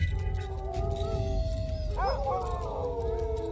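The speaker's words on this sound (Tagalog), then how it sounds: "Alulong yun ng aso eh." A dog howls outside in a yard at night, a long wavering cry rising and bending over a steady low background hum, somewhat distant and alone without talk.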